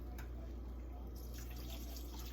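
Red wine is poured into a simmering red sauce in a pan, a soft, steady liquid trickle heard faintly over a low background hum.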